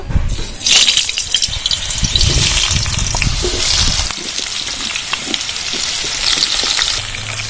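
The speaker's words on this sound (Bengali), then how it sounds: "আলুগুলো ভেজে নেব" Loud hissing sizzle of food frying in oil, with occasional clatter and stirring noises, up close.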